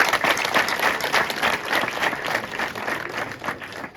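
An audience at a Rwandan community work event (umuganda) claps in steady, dense applause that lasts the whole four seconds and stays close and loud.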